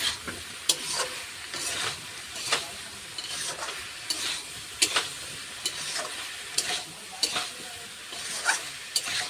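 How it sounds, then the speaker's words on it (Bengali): Spoon scraping and stirring through vegetables with small prawns as cumin and coriander powder are worked in, repeated sharp scrapes over a steady soft sizzle, close and alone. "ভালো করে নাড়িয়ে নিতে হবে।"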